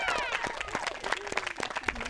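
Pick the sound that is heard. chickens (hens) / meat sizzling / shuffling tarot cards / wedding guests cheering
wedding guests cheering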